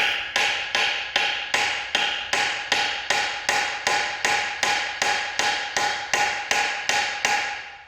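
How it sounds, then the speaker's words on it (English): A hammer strikes a stuck screw on the transom of a 1980s Alpha One sterndrive, giving about eighteen sharp metallic taps at an even, quick rhythm, all loud and close. "I'm going to hit it with a hammer and try and get it to shock it loose"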